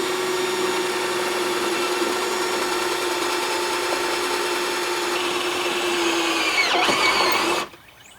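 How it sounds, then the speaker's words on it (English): A power drill drills through a boat transom for a power pole install, whirring steadily at close range for about seven seconds, its pitch shifting slightly near the end before it cuts off abruptly. "Let me pass a bolt through before I drill the other one."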